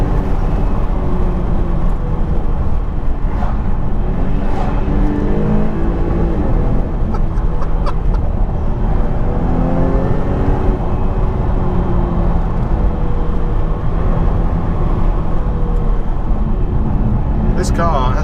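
A Jaguar XE S driven hard along a road, its engine droning and rising and falling in pitch under the steady roar of wind and tyres, with someone talking over it.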